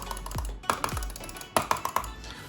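A computer mouse clicked repeatedly: sharp, close clicks in small irregular bunches, fairly loud over a low background hum, with no talking.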